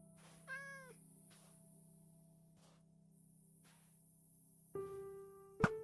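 A Minecraft cat gives two clear meows, one early and a louder, nearer one near the end, separated by a quiet stretch of soft game ambience.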